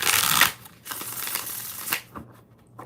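Tarot cards shuffled by hand in a few quick riffling bursts, crisp and close, with short pauses between and no talking.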